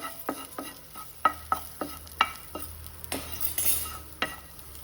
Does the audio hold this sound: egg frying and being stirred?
yes